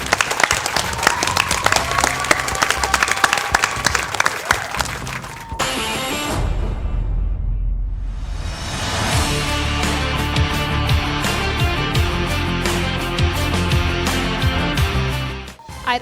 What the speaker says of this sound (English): A round of applause for this gorgeous venue